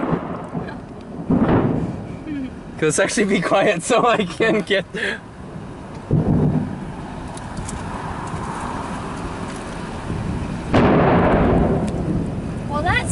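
A thunderstorm rolls in near a river and swinging bridge, with low rumbling thunder swelling in and out between bursts of close, loud talk and clatter.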